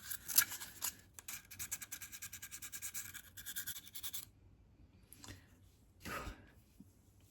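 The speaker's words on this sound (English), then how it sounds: "I need to sharpen my pencil again." A pencil is sharpened during a portrait drawing session, giving a rapid run of rhythmic, scratchy grinding strokes for several seconds before it stops, followed by a few soft rustles and handling noises in a quiet room.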